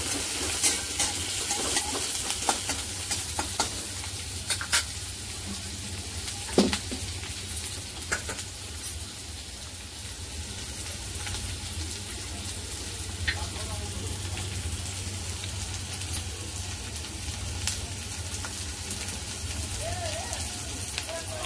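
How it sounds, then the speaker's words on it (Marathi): Onion, garlic cloves and a piece of ginger fry in a pan on a high gas flame, giving a steady broad sizzle with occasional stirring scrapes and small pops throughout. "1 इंच आले ते सुद्धा टाकूया आणि हे सगळं फ्राय करून घेऊया"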